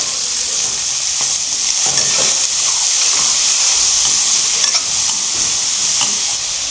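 Tomatoes tipped into a pan of peas, green chillies and spring onion, setting off a loud, steady sizzle and hiss with scattered stirring knocks all the way through.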